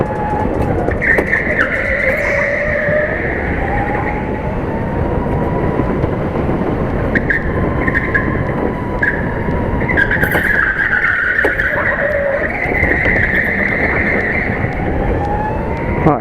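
An indoor go-kart's engine whines close and loud with rising and falling pitch, broken by several sharp tyre squeals as the kart skids through corners.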